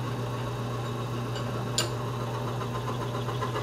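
A greased bearing in an extreme pressure test rig runs under a steady mechanical hum with faint rhythmic ticking, one brief sharp squeak standing out partway through.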